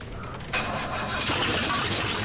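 The Prowler buggy in SnowRunner, fitted with its most powerful engine, rises from a low idle into a loud, continuous rev that holds steady and close, with no talking.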